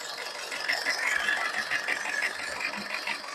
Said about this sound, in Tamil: இன்ஜின் ரன்னிங்ல தான் இருக்குது